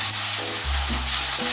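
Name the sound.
ginger garlic paste frying with golden brown onions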